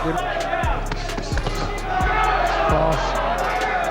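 Repeated dull thuds of punches land every second or so over a loud, steady crowd roar with cheering swells at a professional boxing match.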